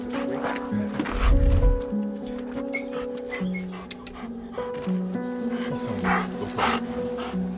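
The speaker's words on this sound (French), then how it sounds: "On vient de récupérer 4 chiens" Several rescued dogs at an animal rescue from a cluttered hoarding site yip, bark and whimper in overlapping high cries, constant and close throughout with a low thump early on.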